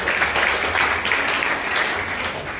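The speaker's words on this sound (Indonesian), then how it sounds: "Kita beri tepuk tangan untuk acara pagi hari ini" A crowd at a morning gathering applauds, a thick continuous wash of clapping that stays loud and even from start to finish.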